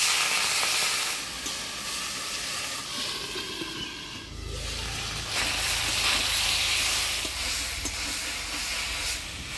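Potato and okra cook in a covered pan after a little water goes in, a loud continuous steamy hiss and sizzle with a deeper rumble rising midway and persisting to the end.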